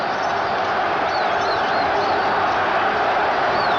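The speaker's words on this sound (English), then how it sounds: "Wade asking the crowd to settle down so his players could hear the signal" Football stadium crowd at the Grey Cup, Montreal Alouettes against Edmonton Eskimos in 1977, a dense continuous roar of many voices from all around, steady and loud with scattered whistles cutting through.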